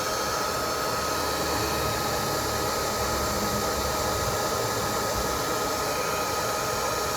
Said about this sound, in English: So we're going to heat up this bolt before we do anything.